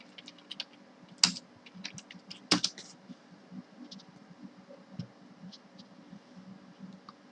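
Quick, light keystrokes on a computer keyboard as a web search is typed in, with a few sharper key presses standing out from the soft, irregular patter, close and alone without talk.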